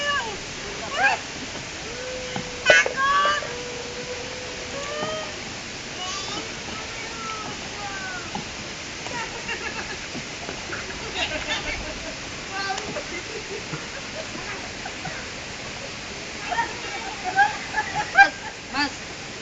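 Paddles stroke through the water beside a small rowing boat, giving intermittent splashes and sloshes over a continuous watery rush, while people call out and talk throughout.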